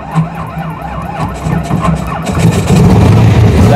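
A freshly installed car engine is cranked and fires up, with clicks and whirring at first before it catches and settles into a loud, steady running rumble near the end.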